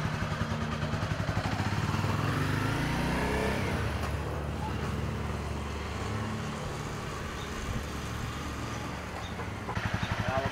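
A Honda CBR 250R motorcycle ridden slowly in circles hums with a steady, rough engine drone that swells and eases as it turns, the low rumble close and continuous with faint clatter.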